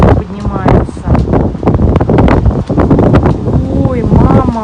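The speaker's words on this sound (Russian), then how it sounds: "Ух ты, какой ветер поднимается." Hurricane-force wind in Moscow ahead of a heavy downpour, gusting loudly and battering the microphone in repeated rough bursts, with whistling tones rising and falling through the roar.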